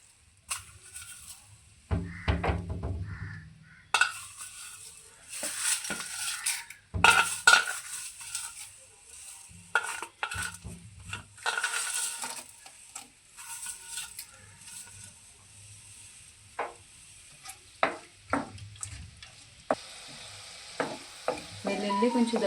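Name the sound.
tempering spices, crushed garlic, curry leaves frying in hot oil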